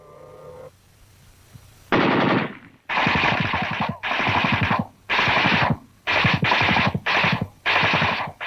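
A WWII German tank's machine guns rattle off in loud, close bursts of rapid fire, about six or seven bursts separated by brief gaps, with no talking over them.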